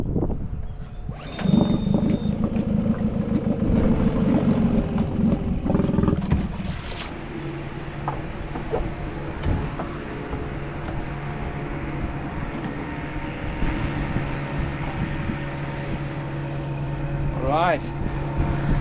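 A boat engine starts up at the start of the boating season near Rathenow: a loud roar catches and then settles into a steady, throbbing rumble for the rest of the clip, close by, with some background voices.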